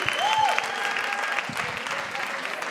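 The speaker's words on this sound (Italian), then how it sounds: "Continuate l'applauso per l'MC della serata, Sandro Canori!" Audience applause for the MC at a comedy show, a steady wash of clapping that holds at an even level throughout, with a brief tonal sweep near the start.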